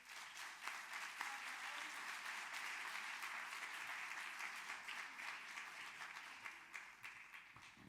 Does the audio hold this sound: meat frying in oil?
no